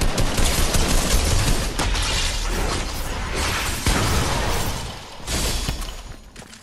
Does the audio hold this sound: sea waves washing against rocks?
no